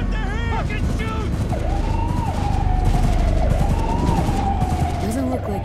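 Gunfire during a police bust in the Cyberpunk 2077 video game, rapid shots crackling under a wailing siren, loud and dense, with shouting voices mixed in.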